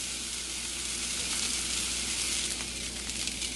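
Steak sears in a hot pan with a loud, continuous sizzle and crackling spatter, steady and close throughout.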